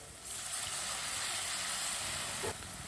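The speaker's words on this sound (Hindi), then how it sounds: "थोड़ा सा पानी डाल लेंगे" Water poured into spices frying in a pan sets off a steady, broad hiss and sizzle that holds throughout, with a small splash near the end.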